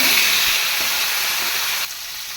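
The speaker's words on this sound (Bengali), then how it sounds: "এই তেলের মধ্যেই পটলগুলোকে ভেজে নেব" Pointed gourd pieces frying in hot oil left over from fried fish, giving a steady close hiss that drops off abruptly near the end.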